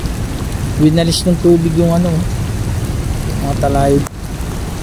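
Steady rain keeps falling over flooded ground near a washed-out dike and toppled banana plants, a constant hiss with someone talking over it.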